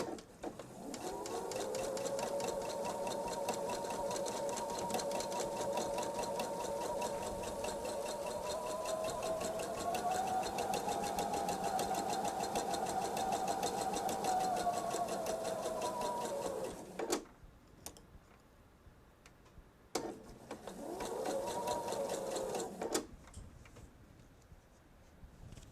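A sewing machine stitches a quilt seam for a Veterans Day quilt, running in one long steady whir for about seventeen seconds, stopping, then sewing a shorter burst before falling quiet.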